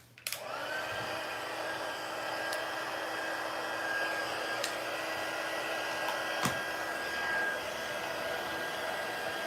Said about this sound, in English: let's get the heat tool out